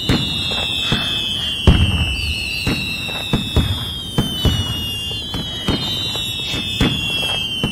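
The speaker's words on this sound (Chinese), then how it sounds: "求婚就求婚，还放烟花，" Fireworks set off to celebrate a marriage proposal crackle and pop in repeated sharp bursts, with whistling rising streaks overhead and no voices.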